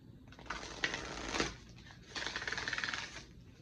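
Oracle cards shuffled by hand: two bursts of papery riffling, the second a quick, even flutter of cards, close and fairly quiet, with no talking.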